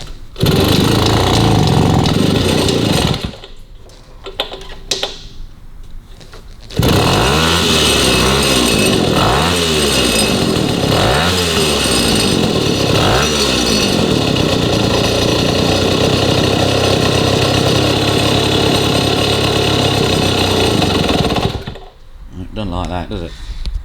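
A 1953 Itom Astor Sport two-stroke motorbike engine runs loud and close with a raspy buzz. It cuts out briefly, then fires again and revs up and down in several surges before settling into a steady high drone and stopping near the end.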